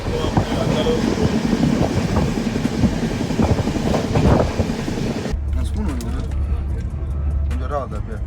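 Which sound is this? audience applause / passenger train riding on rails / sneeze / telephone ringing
passenger train riding on rails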